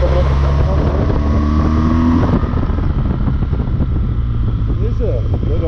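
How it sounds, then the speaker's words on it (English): A fast motorcycle overtaking a BMW R1200GS Rallye on the Grossglockner Pass mountain road in Austria, its engine roar loud and close under heavy wind noise, with people talking over it. "Fast bike coming up."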